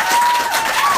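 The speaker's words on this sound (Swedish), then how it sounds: "Tjejer, applåd." Women in a Swedish stand-up comedy audience applaud and cheer on cue, a dense, steady patter of clapping filling a short burst with a faint whistle or shout above it.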